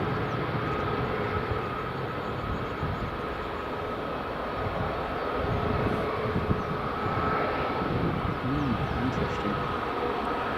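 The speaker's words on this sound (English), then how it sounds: "Delta A330 just taxiing along." A Delta Airbus A330 taxis at Edinburgh Airport with its spoilers still deployed, giving a steady, broad jet engine rumble and whine that holds at a fairly constant level throughout.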